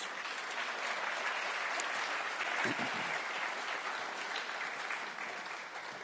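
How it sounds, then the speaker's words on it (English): An audience applauds steadily as two people are called on stage at a talk event, a dense, even wash of clapping that holds for the full stretch without pause. "So if everyone can give them a round of applause to encourage them to come out"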